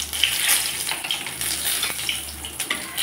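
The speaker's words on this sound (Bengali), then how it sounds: "এখন মাছ ভাজা তেলের উপরে দিয়ে দিচ্ছি সাদা জিরা" White cumin seeds and bay leaf sizzle in hot oil left from frying fish, a steady crackling hiss running close and fairly loud through the whole stretch with no talking.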